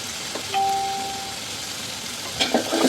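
Turmeric and chilli powder sizzle in a pan of frying onion, chilli and garlic paste as the spatula stirs, with a clear electronic chime ringing early on and louder scraping near the end.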